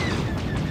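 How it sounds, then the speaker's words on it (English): Rapid gunfire from an enemy turret strikes a starfighter in a Star Wars: The Old Republic space dogfight, a dense, steady burst of loud overlapping shots with no gaps. "I'm being shot by a turret, I think."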